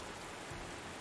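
Rain falls in the video game Panzer Corps 2 as a steady, soft hiss of drops with no talk.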